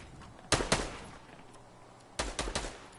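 Gunfire in the Fortnite video game, two short bursts of close, loud shots, a double crack early on and then a rapid string of three or four shots later, with quiet between.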